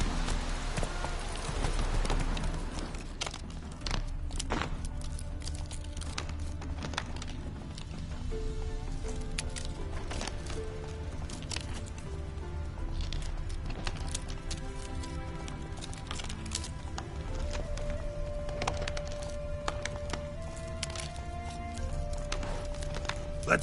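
A horse gallops in a video game with a steady rapid hoofbeat rhythm over a continuous bed of game ambience and music throughout.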